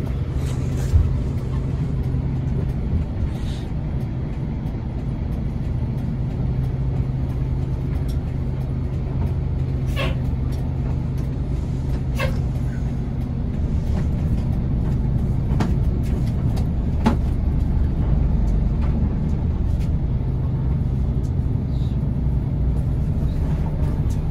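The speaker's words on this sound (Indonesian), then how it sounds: "Bis Prima Jasa yang saya naiki ini jurusannya Kampung Rambutan Balaraja" Steady low engine rumble and road noise fill the cabin of a moving Prima Jasa bus on the Kampung Rambutan to Balaraja route, with occasional rattles and clicks and faint voices in the background.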